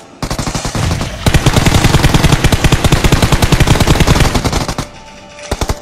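Rapid automatic gunfire in a video game, tight bursts of loud shots hammering almost without pause for several seconds, then a short lull before a few more shots near the end.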